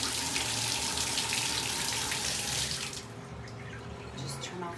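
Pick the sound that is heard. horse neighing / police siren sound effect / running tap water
running tap water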